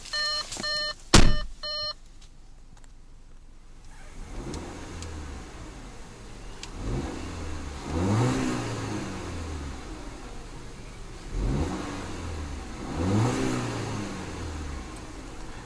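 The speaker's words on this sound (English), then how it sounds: "let's see about a few revs of that inline 4-cylinder turbo and see what kind of soundtrack she produces" A 2014 Audi Allroad 2.0T with an inline four-cylinder turbo engine, heard first with a few electronic beeps, then idling and revving three times, each rev rising and falling back to idle.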